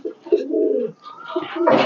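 Pigeons cooing close by, a few soft, throaty coos in quick succession with no other sounds.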